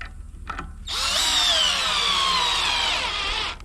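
An old Craftsman cordless drill running low on battery during a boat project gives one sustained, high whine of about two and a half seconds that sags slightly in pitch before cutting off.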